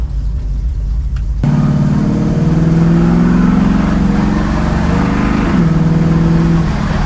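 A 1967 Ford Mustang Fastback pulls away hard, its engine rising from quiet into a loud, steady drone that climbs in pitch and then drops briefly as a gear change comes through, recorded close with no voices.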